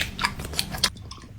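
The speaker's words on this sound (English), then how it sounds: "It's just him chewing, smacking his lips," Wet chewing and lip smacking from someone eating up close in a mukbang, a few soft smacks and clicks in quick succession before the mouth noises fade to near quiet.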